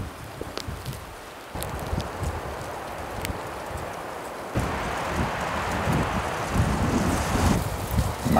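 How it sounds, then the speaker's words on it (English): Strong wind blowing across an open mountain ridge during an archery elk hunt, a continuous loud rushing roar with gusty swells buffeting the microphone and no voices. "It's breezy."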